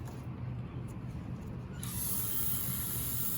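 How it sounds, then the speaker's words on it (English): A lab vacuum for suction filtration in an aspirin synthesis switches on partway through, a steady hiss and pump whir rising over a low mechanical rumble and continuing evenly to the end. "now I'm going to turn on the vacuum and get the airflow"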